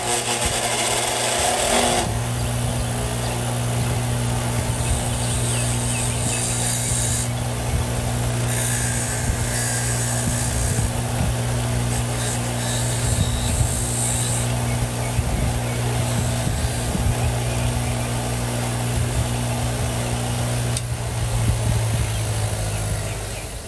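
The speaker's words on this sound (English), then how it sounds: "So I'm going to grind this off." Power grinder cutting off part of a vintage Milwaukee impact gun, a loud steady whine with a low hum that runs for the whole clip, cutting out briefly near the end.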